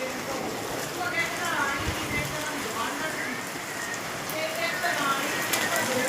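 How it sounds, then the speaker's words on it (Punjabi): Heavy rain pours outside during a windy storm in a Punjab village, a dense, steady hiss with spray blowing indoors, continuous and fairly close, with no clear voices over it. "ਮੀਂਹ ਬਹੁਤ ਪੈਣ ਡਿਆ ਅੰਦਰ ਵਾਛਰ ਆਉਣ ਡਈ ਆ ਦੇਖਣ ਡਿਆ।"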